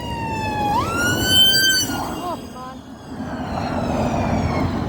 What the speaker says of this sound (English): Hate the sound of an ambulance passing.